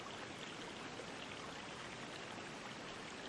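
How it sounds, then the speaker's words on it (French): A forest stream murmurs steadily in the distance, a soft continuous wash of flowing water with no other sounds. "juste les murmures du vent et au loin, celui d'un ruisseau"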